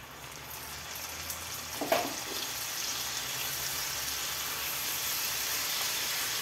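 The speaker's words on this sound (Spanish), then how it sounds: "Ahora es el momento de echarle el vino" Pedro Ximénez wine hits browned onions in a hot pan with a sudden splash, then a steady, growing sizzle that keeps hissing on its own with no talk.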